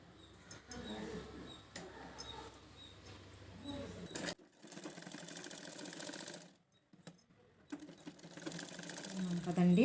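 A sewing machine stitches lehenga blouse pieces together for a girl's outfit, running in whirring bursts with pauses between them, while a person talks over part of it.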